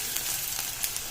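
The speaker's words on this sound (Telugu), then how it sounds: "ఇది బాగా కొంచెం రెడ్ కలర్లోకి మారేంత వరకు ఫ్రై చేసుకోవాలి." Onions fry in hot oil in a pan, a faint continuous sizzle with small crackling pops, heard alone without talk.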